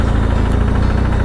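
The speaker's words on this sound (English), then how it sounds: "Now we've got these little trucks ferrying people up the mountain." A steady, close engine drone with low rumble and vibration from a small passenger truck labouring up a mountain road in Thailand, with no voices.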